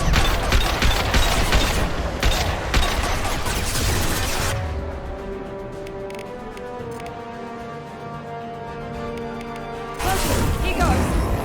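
Heavy weapon fire in Mass Effect 2 comes as a dense, loud barrage of blasts and crashes, drops to a quieter tonal stretch, then resumes near the end.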